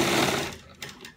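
Sewing machine stitching an embroidered neck design onto buckram, a close whirring run that fades out, followed by two brief short bursts of stitching.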